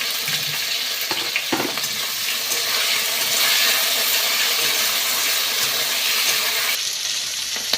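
Flat beans (sim) dropped into hot oil and fried in a pan, a loud steady sizzle with scraping stir strokes and a few clinks, continuous with no talk.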